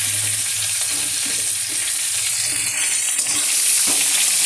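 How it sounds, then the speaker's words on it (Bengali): Papaya, green banana and sweet potato pieces frying in oil in a kadai while being stirred, a steady loud sizzle with scraping stirs throughout and no talk. "একটু নাড়িয়ে নিই।"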